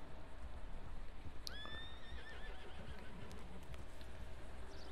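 A horse in Red Dead Redemption 2 lets out a single sharp whinny partway through, its pitch rising then trembling down, over a steady outdoor background hiss with faint hoof sounds.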